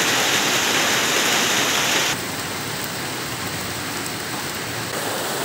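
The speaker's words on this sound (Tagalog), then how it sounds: "Umuulan, nalakas." Heavy rain pours steadily at night in the Philippines, a dense, loud and unbroken wash of falling water that stays close and constant throughout, easing slightly partway through without any voices.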